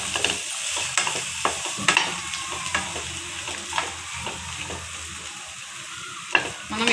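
Halved jackfruit seeds frying with fresh grated coconut in a pan for chutney, a continuous sizzle broken by repeated scraping and clinking of a spatula stirring, close by with no voices.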